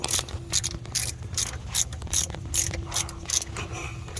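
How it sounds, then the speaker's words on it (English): A rotating socket wrench ratchet cranks on a 2002-2014 Chevy Tahoe 5.3 belt tensioner, giving close, rapid clicking bursts in a steady back-and-forth rhythm, about a dozen strokes, without speech. "I'm going to put this socket wrench in there because sometimes it's just nice to get in there and crank it"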